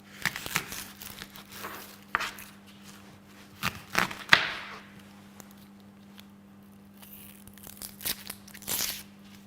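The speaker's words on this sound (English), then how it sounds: "Now we're dicing the onions." Onions being diced with a knife on a green colour-coded chopping board: scattered crisp knife taps and crunchy cuts at uneven intervals, fairly close and moderately quiet over a steady low hum, with no talking.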